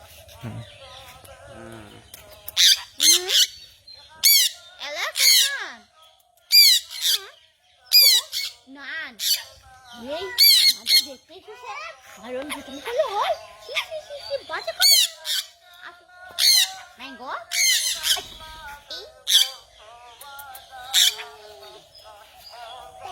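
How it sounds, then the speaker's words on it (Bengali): Birds perched high on a tree branch give repeated harsh squawks and short chirps, sharp bursts at irregular intervals with quiet gaps, fairly close and clear over faint background. "সবাই ওই যে মগ ডালে গিয়ে বসেছে। এখন দেখা যাক ওরা ডাক করে কে কে আসে।"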